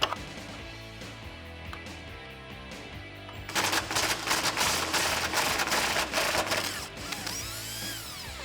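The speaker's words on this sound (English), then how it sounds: "we're going to use a 21mm socket to remove these 2 nuts in here" Impact or power tool ratcheting loudly in rapid bursts while the bumper nuts are removed from a 2018 Ford F-150 with a 21mm socket. Background music plays throughout, and the dense mechanical clatter starts partway in and continues to the end.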